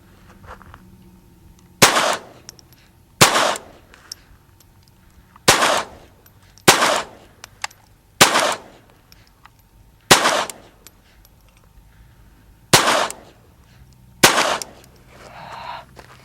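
Gunshots from .22 pistols, a Ruger SR22 and a Walther P22, fired outdoors as eight sharp, loud single cracks spaced one to two seconds apart, each with a short echo and quiet gaps between.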